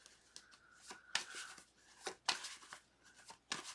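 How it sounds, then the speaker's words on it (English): Tarot cards shuffled and drawn by hand, giving quick papery riffles and flicks with sharper snaps at irregular moments, soft and close with no voice. "So we'll pull some cards here."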